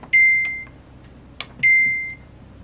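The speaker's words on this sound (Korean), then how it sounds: "겨울에 이게 빨리 안 익을 때는 이렇게 빨리 익히는 방법이 있거든요. 숙성시키는 방법이 있는데요. 전자레인지에 돌려서 쓰시면 됩니다." A microwave oven set to soften and ripen an avocado gives two loud, clear electronic beeps about a second and a half apart, with soft handling clicks around them and no voices.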